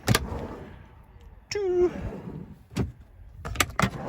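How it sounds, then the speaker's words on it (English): Kitchen drawers in a Fiat Tribute T669 camper van slide out and back in a few quick runs with knocks and a brief rolling squeal, while a voice counts nearby. "You've got 3 drawers that slide out"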